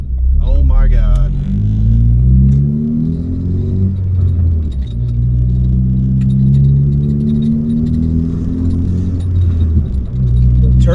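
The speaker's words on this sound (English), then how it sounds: "The turbo sounds amazing." A Ford Focus ST fitted with a Sidewinder turbo kit rumbles loud and close, its engine tones rising through two long pulls with a brief dip between, while people talk over it.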